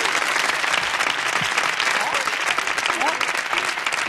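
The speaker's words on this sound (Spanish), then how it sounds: "ese fuerte aplauso para Emilio Butragueño" Strong audience applause for footballer Emilio Butragueño on a 1989 Spanish television show, loud continuous clapping throughout with a few voices mixed in.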